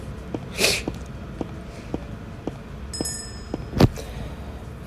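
A person with a cold sneezes once sharply near the end, following a faint earlier sneeze-like burst, over a low background with soft ticks and a brief electronic ping from a supermarket simulator game.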